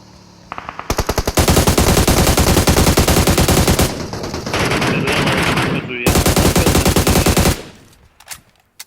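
Loud automatic gunfire from PUBG Mobile, long rapid bursts separated by short pauses, with a couple of faint single shots trailing off at the end.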